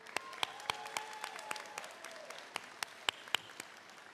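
Graduation ceremony audience clapping for the class, sparse, distinct individual claps at a moderate distance, steady over a few seconds with a faint tone underneath.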